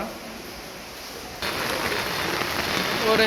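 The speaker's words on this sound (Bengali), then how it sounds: "বৃষ্টি পড়তেছে প্রচুর" Heavy rain falls outside in a dense, continuous hiss that grows louder partway through and keeps a steady pour.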